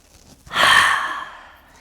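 A single deep inhale during a yoga practice, a close, breathy rush of air that swells quickly and tapers off slowly, heard alone.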